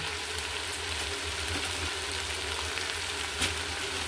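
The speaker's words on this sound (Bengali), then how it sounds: "স্বাদ মতো নুন দিয়ে আমি এটাকে আবার খানিকটা কষিয়ে নেব" Chicken curry masala sizzling and frying steadily in a pan as it is sautéed, a continuous close crackle with no talking.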